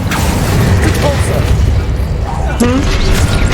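A fiery Incendio spell blast in Hogwarts Legacy, heard as booming bursts and crackling magical effects within busy game sound, while a player's voice talks over the action.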